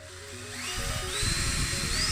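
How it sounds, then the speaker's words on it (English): A small rivet head removal drill bores into the centre of a rivet on a Matchbox Mercedes 300SE model, making a steady close whine that rises and turns grindier as it cuts, with no talking. "drill out the centre of the rivet using a rivet head removal drill"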